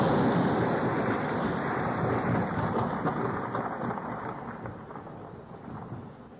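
A deep peal of thunder rolls and rumbles through a thunderstorm, broad and loud throughout, slowly fading as it tumbles away, with a steady wash of rain beneath it.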